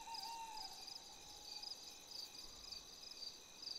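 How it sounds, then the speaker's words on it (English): Crickets chirping in the video game Life Is Strange, a steady high-pitched trill that runs continuously at an even level, alone without any talking. "Crickets chirping."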